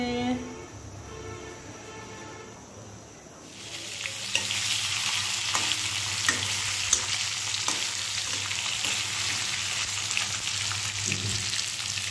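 Rice boils in a pot while lunch is being cooked, a steady close hiss and bubbling froth that swells in after a few seconds and carries on loudly to the end.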